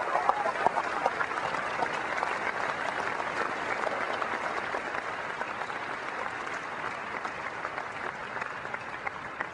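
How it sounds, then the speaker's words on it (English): A large keynote audience at Macworld New York 2001 claps in sustained, even applause that fills the hall at moderate level throughout, with no pause. "give me a round of applause for their families"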